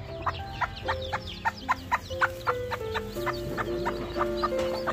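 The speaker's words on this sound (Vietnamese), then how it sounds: "Con gà xám này." A northern Vietnamese bantam hen with her small chicks clucks in a steady, evenly spaced series of short, close calls, with thin peeping and soft farmyard sounds in the background.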